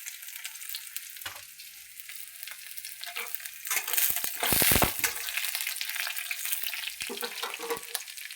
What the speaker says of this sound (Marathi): लसूण भाजू द्यायचं चांगला.